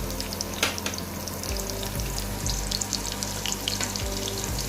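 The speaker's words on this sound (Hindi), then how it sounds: "हमने पैन के अंदर एक कप हमने ऑयल यूज़ किया है और हम इसके अंदर प्याज ऐड करेंगे।" Onions fry in a cup of oil in a pan for chana dal tarka, giving a steady close sizzle with scattered pops and crackles and a low hum underneath, without any voices.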